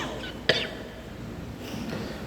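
A woman coughs once, a sharp, brief burst close by, followed by quiet room tone with faint low murmuring.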